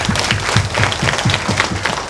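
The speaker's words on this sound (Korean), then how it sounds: "이분들을 위해서도 우리 한번 격려의 박수 부탁드립니다" An audience at a Korean citizens' public forum on household waste and incineration facilities gives steady, fairly loud applause, dense clapping that carries on evenly without voices.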